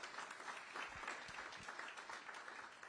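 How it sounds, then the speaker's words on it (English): Audience in a hotel ballroom at a regional economic alliance launch gives a round of applause, a soft, steady patter of clapping heard at a distance. "Let's give them a round of applause here at ACA,"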